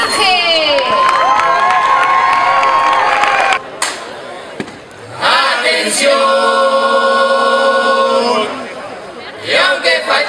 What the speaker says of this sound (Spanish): nosotros recibimos con el más fuerte los aplausos a Murga